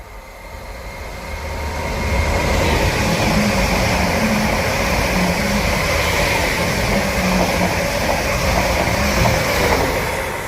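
A Greater Anglia train runs through Stowmarket station without stopping, a loud sustained rumble and rail roar that swells in over the first two seconds and holds steady close by, with no talk.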